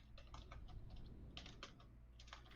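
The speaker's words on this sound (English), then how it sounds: "Typing that down." Quick bursts of typing on a computer keyboard, clustered keystrokes in three short runs with brief pauses, close and fairly quiet over a low background hum.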